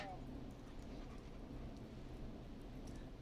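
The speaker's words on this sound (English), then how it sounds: "It's my neighbor's dog." A neighbour's dog whimpering and yipping at night, faint and distant under a low hiss, with people talking over it.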